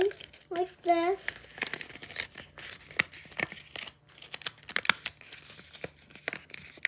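Tape is pulled, torn and crinkled while a paper knife is being built, giving irregular close rustling bursts and sharp rips, with a voice briefly heard near the start.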